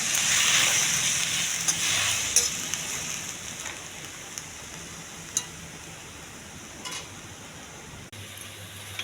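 Coriander and green chillies cooking in watery tomato juice in a pan give a soft, steady sizzle and hiss, with occasional light clicks of stirring, close and without talk, fading slightly toward the end.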